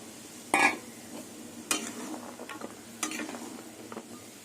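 Soybean chunks are tipped into a pan of boiling water, a sudden sizzling splash followed by soft bubbling and a few light stirring scrapes and taps, close and quiet.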